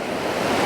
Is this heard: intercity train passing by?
no